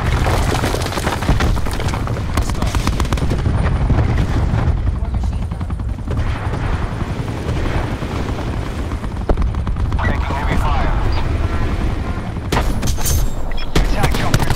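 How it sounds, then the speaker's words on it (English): Heavy, sustained gunfire and explosions in Black Ops 4 on the Slums map, a dense, loud barrage of automatic shots and booms that never lets up, with in-game voices calling out over the din. "Taking heavy fire"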